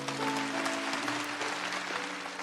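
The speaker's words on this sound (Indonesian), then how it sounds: "kasih tepuk tangan untuk Tuhan Yesus." A church congregation at a Sunday worship service claps for Jesus, a brief burst of fairly faint, dense applause with a sustained tone beneath it.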